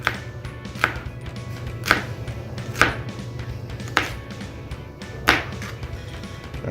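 A kitchen knife chops through shrimp on a cutting board in a steady series of sharp, evenly spaced thuds about a second apart, loud and close, over a low background hum.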